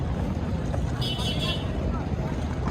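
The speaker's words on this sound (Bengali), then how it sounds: "ওই যে কামান এসতেছে একখান দিকেন গতি সম্পন্ন ট্রলার, রাতের আধারে কি সুন্দর চলতেছে" A fast motor trawler passes on a river at night with a continuous, loud engine rumble and a wash of wind noise. A brighter hiss rises briefly in the middle of the pass.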